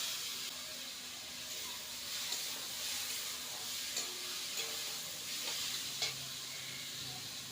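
Ash gourd stirs and sizzles in a pan, giving a soft, steady frying hiss. Faint scraping clicks from the stirring come through now and then, and the whole sound stays fairly quiet and close.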